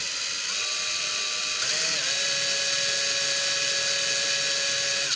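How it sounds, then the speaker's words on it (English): A steady, high-pitched power drill whines continuously, its tone dipping briefly as it bites into a Tamiya RC truck body for cab hinges, then running on evenly until it stops. "Start drilling that hole. Start slowly."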